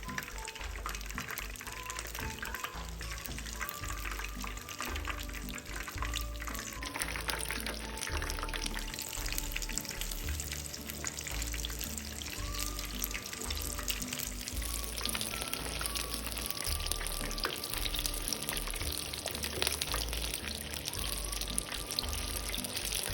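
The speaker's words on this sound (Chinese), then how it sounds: "一直油炸至肉串金黄色后才离火。" Chicken satay skewers coated in batter deep-fry in a pot of hot oil over medium heat, making a soft, continuous bubbling sizzle that stays faint and even throughout, with quiet tones in the background.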